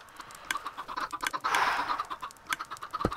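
Chickens cluck in a Minecraft coop in a rapid, uneven run of short calls, with one louder burst partway through and a sharp note near the end, alone and fairly close.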